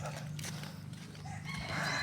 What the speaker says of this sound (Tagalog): Huni ng ibon at saka tilaok ng manok lang ang maririnig mo.